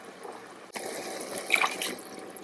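Water poured from a cup into a one-pot chicken Madras curry pot, a close, steady liquid splash and trickle that swells briefly midway before settling, with no talk.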